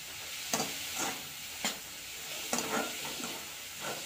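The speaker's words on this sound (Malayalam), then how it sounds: "ഈ സവാള നന്നായിട്ട് വഴറ്റി വഴറ്റി കൊടുക്കട്ടോ നന്നായിട്ട് വഴഞ്ഞു തരണം" Sliced onions sautéing in a pan for chicken chatti pathiri, a soft continuous sizzle broken by periodic stirring scrapes, quiet and close with no voices.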